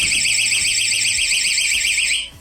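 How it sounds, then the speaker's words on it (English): A doorstop alarm wedged under a door blares a loud, steady high-pitched electronic siren with a warbling tone for over two seconds, then cuts off abruptly. "This little device operates both as a doorstop and as an alarm."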